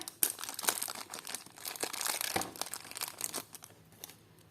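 Continuous crinkling of thin plastic packaging, dense crackles and rustles up close with no talking.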